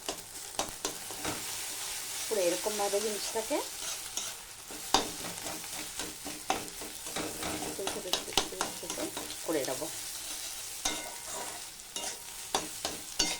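Chow mein noodles being stir-fried in a hot pan, sizzling steadily with repeated scraping stir strokes, heard close up beneath a speaking voice.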